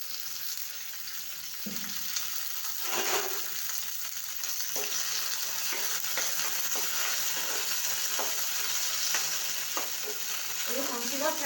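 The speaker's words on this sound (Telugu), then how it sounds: "సో నేను ఒక 20 గ్రీన్ చిల్లీస్ తీసుకొని రోస్ట్ చేసుకుంటున్నాను." About twenty green chillies roast in two spoons of oil in a pan, a continuous close sizzle and hiss with occasional stirring scrapes and small pops, no talking.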